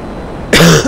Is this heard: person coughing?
yes